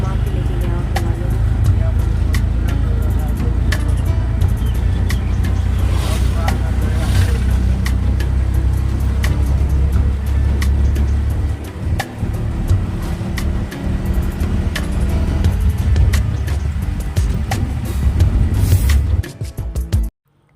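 An auto-rickshaw rides through busy morning town traffic in Laheriasarai, Darbhanga, with a loud steady engine rumble and road noise throughout and a brief dip near the end.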